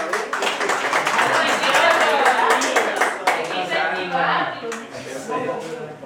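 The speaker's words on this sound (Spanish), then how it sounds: "Aplauso para el muchacho." A classroom group claps in applause, a dense burst of hand claps lasting several seconds that gradually thins out, with voices mixed in.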